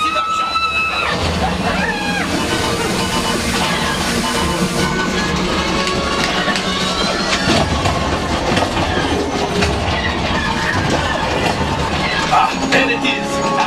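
Train rumbling and clattering along the rails in the video game Millennium Falcon: Smuggler's Run, a continuous loud clickety-clack mixed with game effects and music.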